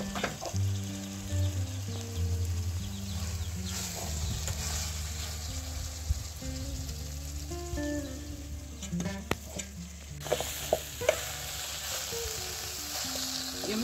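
Eggplants sizzle steadily in a hot pan with curry powder, a continuous close frying hiss, with a few light scrapes and clinks of stirring toward the end.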